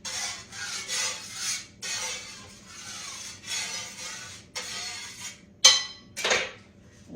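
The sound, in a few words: peeling a potato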